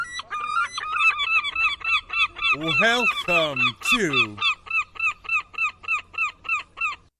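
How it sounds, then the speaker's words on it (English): An angry flock of seagulls sound effect: loud, insistent squawking calls repeat in a rapid pulsing rhythm throughout, briefly thickening into overlapping cries in the middle while a voice speaks a few words. "That was our angry flock of seagulls."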